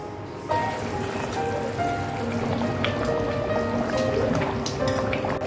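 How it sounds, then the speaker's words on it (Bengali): Water poured into curry masala in a hot pan bursts into a steady, loud crackling sizzle that starts abruptly and holds evenly, close to the pan. "একটু জল দিয়ে দিচ্ছি।"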